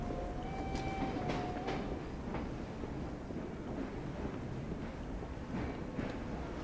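A train in the video game Assassin's Creed Syndicate gives a steady, dense rumble of wheels on rails, with faint clicks and brief whistling squeals over the top. No one speaks.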